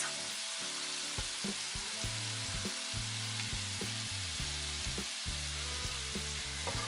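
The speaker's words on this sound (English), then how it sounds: "I'm also going to throw in some sweet chili sauce" Sweet chili sauce and soy seasoning sizzling in a hot stir-fry pan for a tofu dish, a steady close frying hiss with faint clinks of stirring throughout and no talk.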